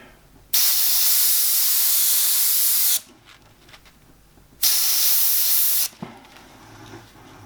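An airbrush sprays paint over a skull stencil in two steady bursts, each about two to three seconds long. Both are loud, continuous hisses with quiet pauses between them.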